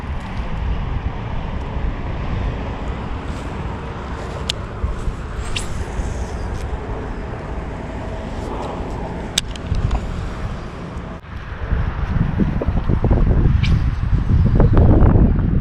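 Wind blowing outdoors at a fishing spot, a constant rough rushing and buffeting against the microphone that grows into a heavier, louder rumble toward the end, with no voices.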